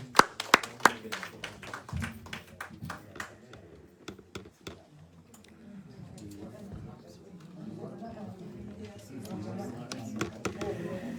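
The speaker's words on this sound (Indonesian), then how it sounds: "Beri tepuk tangan kepada Tuhan." A church congregation claps hands in a burst of sharp, scattered claps at first. The claps thin out into softer, irregular taps under voices and background sound.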